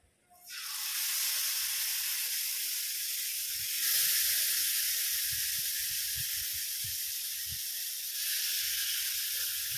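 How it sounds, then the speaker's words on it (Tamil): Steady loud sizzling of fish frying in hot oil, a dense crackling hiss that continues throughout, with faint low bubbling underneath. "மீதி உள்ள மீனை வறுத்துடலாம்"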